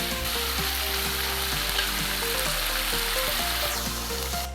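Spice paste for a jackfruit curry fries in a pan with an even, dense sizzle. A low steady hum and faint tonal background music run beneath it, with no speech.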